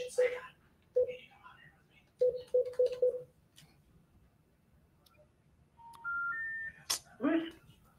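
Telephone keypad dialing tones during a phone call, several short beeps in quick succession followed by rising call-progress tones, with a voice speaking around them.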